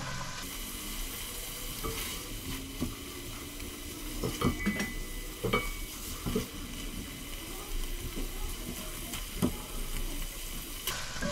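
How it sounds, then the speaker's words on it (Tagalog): Food sautéing in a hot pan with oil, a steady dense sizzle under occasional stirring clatters and utensil clicks, fairly close and moderately loud throughout with no talking. "At higisa mo siya ng gusto para maalis ang lansa."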